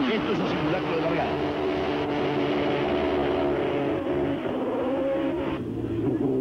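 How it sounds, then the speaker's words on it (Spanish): A 1996 race car at El Pinar is held at full throttle against the rev limiter during a practice start, a loud, continuous high-revving engine roar with a voice talking over it. "Acelerando a fondo a todo o nada, llegando hasta el limitador"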